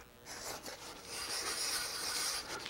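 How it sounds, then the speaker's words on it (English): Soft scratchy rubbing of sandpaper against a small model road piece, steady back-and-forth strokes, close and fairly quiet. "just keep sanding it until it's a nice tight fit"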